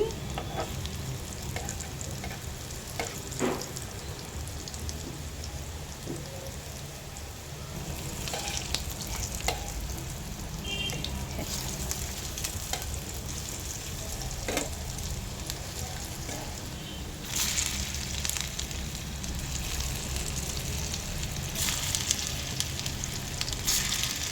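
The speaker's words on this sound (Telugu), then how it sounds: "కొంచెం తక్కువగా వేసుకొని వేయించుకోవాలి" Amaranth leaves and liver frying in a kadai make a continuous, dense sizzle close by, with occasional scrapes and clinks from stirring, and a brighter crackle later on; no one speaks.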